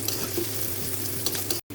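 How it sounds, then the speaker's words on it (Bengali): Onions fry in hot oil in a pan for a fish-and-vegetable curry, giving a steady, close sizzling hiss that stays constant and cuts out briefly near the end. "এখন পেঁয়াজটা একটু ভাজা হলে আমি মশলা দিয়ে দিব।"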